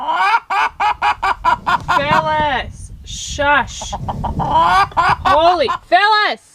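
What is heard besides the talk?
chicken clucking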